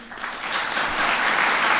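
Audience applause at a Washington event on precision medicine, a steady dense wash of clapping that builds slightly and holds at a fairly loud level throughout.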